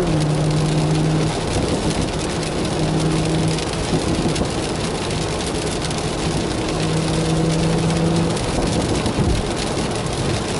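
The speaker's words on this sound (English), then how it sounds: "heavy downpour right now" A heavy downpour drums steadily on a GR Supra on Michelin Pilot Sport 4S tires driving at highway speed in cold weather, a loud continuous wash of rain over a low road and engine hum, with no talking.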